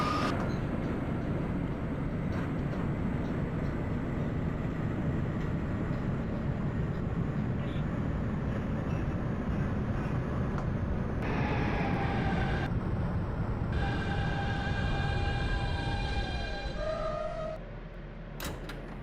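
Queens-bound G subway train in the OpenBVE train simulator game, a steady loud rumble of running rails and motors throughout, with brief higher tones and signals near the end as it eases off.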